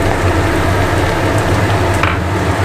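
Half a bowl of water poured onto vegetables frying in a pan for a grilled vegetable sandwich filling, producing a loud, dense, even hiss and bubbling sizzle close by, with no talking.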